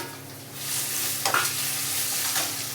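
Raw mango pieces drop into hot oil in a pan and fry with a steady, close sizzle, a brief clatter of stirring in the middle; no voices.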